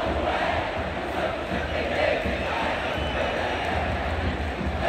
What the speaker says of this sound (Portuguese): Torcida do Palmeiras cantando aqui depois do gol.